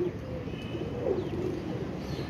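Pigeons, some of them dyed with colour, coo softly and move about in a continuous low murmur, with faint chirps and light flutters close by.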